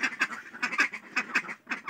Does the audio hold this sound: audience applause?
no